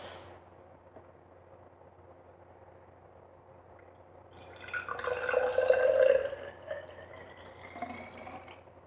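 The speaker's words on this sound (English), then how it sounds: "the first thing we have to do is to put the water inside the" Water is poured into a glass for a kids' science experiment: a few seconds of quiet, then a close splashing, gurgling fill that swells and tapers off.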